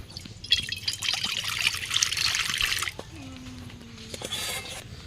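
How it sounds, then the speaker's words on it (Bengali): Water poured into a cooking pot on a stove while making butter paneer, a close splashing pour lasting a few seconds, then a quieter trickle and a few drips. "দিয়ে দিচ্ছি জল"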